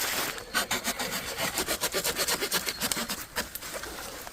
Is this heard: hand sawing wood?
yes